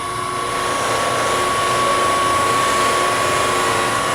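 Wood lathe spinning at high speed while a wax finish is applied to a turned piece, a steady loud whirring drone with a constant high whine, continuous and close, with no talk.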